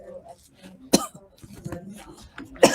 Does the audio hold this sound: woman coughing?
yes